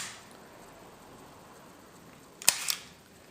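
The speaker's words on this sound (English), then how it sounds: "the shutter is going to be open" A film camera shutter set to bulb, fired once as a single sharp mechanical click with a second click a fraction of a second later, both close and isolated over a quiet background.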